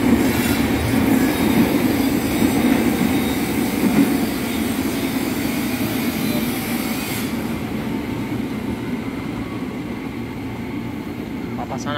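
A Tokyo Metro 6000-series electric commuter train in Indonesia rumbles loudly as it pulls away toward Bogor, wheels clattering on the rails, the heavy roar easing slightly toward the end.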